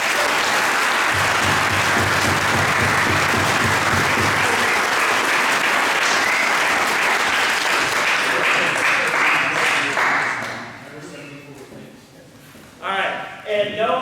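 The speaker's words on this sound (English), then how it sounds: "Let's give Parker a round of applause." Banquet audience at a high school football awards night applauds loudly and steadily for about ten seconds, then the clapping thins out and fades while a few voices and stray claps continue.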